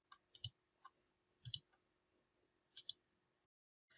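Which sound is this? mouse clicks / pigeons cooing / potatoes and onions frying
mouse clicks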